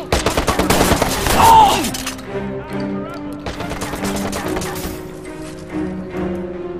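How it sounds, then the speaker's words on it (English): Shotgun blasts and gunfire in the video game Watch Dogs, a dense, loud burst of shots and crashes early on, then scattered further reports over game music and effects. "Shotgun time!"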